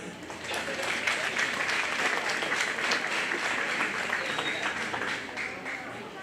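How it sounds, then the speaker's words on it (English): Steady applause from a crowd at the Greene County Iowa Fair, thanking a registered Angus breeder who focuses on show heifers, holding an even level for about six seconds. "giving him a round of applause"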